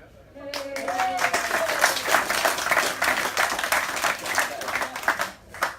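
Audience at a shirt presentation evening breaks into sustained, dense clapping that builds quickly and holds steady, with a few voices faintly mixed in beneath the applause.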